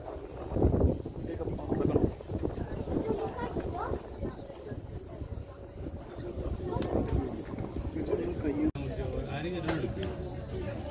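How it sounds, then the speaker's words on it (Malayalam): Strong wind buffets the microphone during a boat ride, a continuous rumbling roar with gusty swells. Voices talk intermittently over it. "അത്യാവശ്യം നല്ല കാറ്റുണ്ട്"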